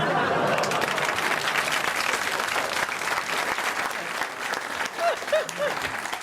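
A stadium crowd roars and applauds continuously after a football player slips and falls while shooting at goal, a dense wash of clapping and cheering with a few brief whistles near the end.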